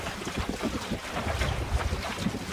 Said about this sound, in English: There's quite a few gusts like that through these valleys.